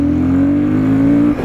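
Royal Enfield Guerrilla 450 motorcycle pulling hard, its 450cc engine giving a loud, close, steady rising drone that drops off sharply right at the end.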